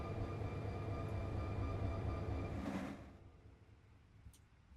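Train cars are shunted in Run 8 Train Simulator on a California local freight job from Fresno to Modesto. A steady loud rumble ends in a brief hiss, then fades to quieter rolling noise with a faint clank near the end, and no voices.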